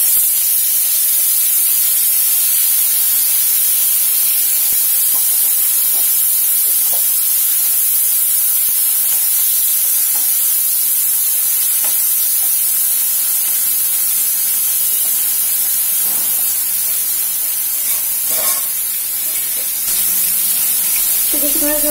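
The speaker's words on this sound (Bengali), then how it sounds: "এটা আমি এখন সেম তেলে ফ্রাই করব" Bitter gourd sizzles in hot oil in a pan, a steady, loud, even frying hiss that continues without pause throughout, with faint clinks now and then.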